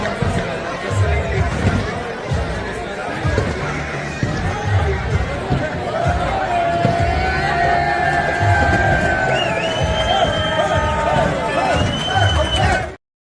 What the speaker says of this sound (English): I have a little clip of just during one of the handshakes and just showing the crowd in there